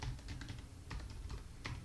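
Rapid, close keystrokes on a computer keyboard as a root password is typed, a short run of light clicks in irregular rhythm with no voice.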